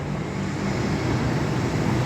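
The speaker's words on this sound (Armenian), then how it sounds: "Ավտոբուսների կանգառն է այստեղ։" Steady traffic rumble at an evening bus stop, a continuous broadband roar of passing vehicles with no distinct events and no talk.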